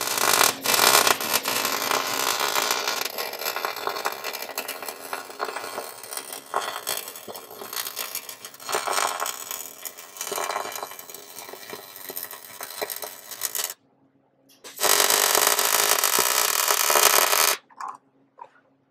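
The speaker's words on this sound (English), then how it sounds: "Come across the top and complete this weld." Welding on the chassis tunnel of a 1968 Volkswagen Beetle, a harsh crackling buzz that runs in long bursts with flickering intensity, a short pause, then another steady burst.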